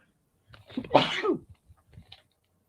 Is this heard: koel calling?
no